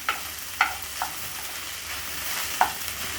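Okra fries in a pan with a steady low sizzle, punctuated by a few sharp scrapes and clinks as a utensil stirs it, close up and with no talking.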